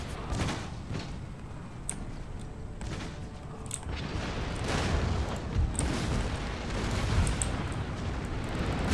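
Howitzer artillery in the strategy game Empire: Total War battle: repeated booming cannon blasts and rumbling explosions at irregular intervals, continuous battle din.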